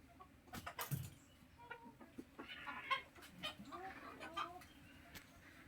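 Chickens in a poultry farm shed cluck in scattered, overlapping bursts, near and fairly quiet, with a few sharper calls rising above a low murmur of background noise.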